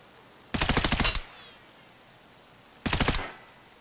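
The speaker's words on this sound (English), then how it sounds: "I'm pretty sure I just shot him in the head" Two rapid bursts of suppressed rifle fire in Escape from Tarkov during a night raid, each a quick string of muffled shots, separated by a couple of seconds of quiet.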